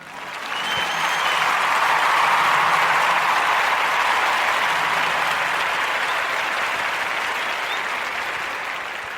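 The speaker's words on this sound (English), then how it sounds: "Round of applause for Muhammad Taha and Brother Troy Lawrence" Sustained audience applause from a crowd, steady dense clapping that swells then slowly fades over several seconds, with no talking over it.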